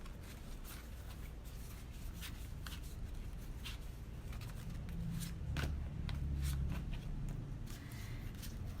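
Tarot cards are shuffled by hand in quiet, repeated riffling bursts with soft papery slaps, faint and close, with no talking.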